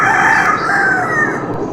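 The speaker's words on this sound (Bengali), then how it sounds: "মোরগের ডাক শুনলাম" A rooster crows in the morning in Tetulia, heard from a window as one drawn-out call over steady outdoor background noise.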